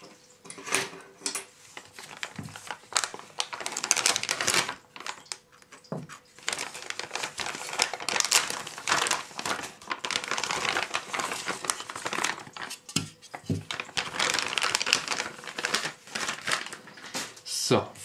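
Plastic packaging film around an X-Wing model kit part is unwrapped and crinkled, with loud, irregular close crackling bursts coming and going over about eighteen seconds.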